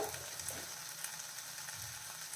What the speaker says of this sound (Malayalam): എല്ലാം കൂടെ നമുക്കൊന്ന് അതിൻ്റെ പച്ച മാറുന്ന വരെ ഒന്ന് വഴട്ടാം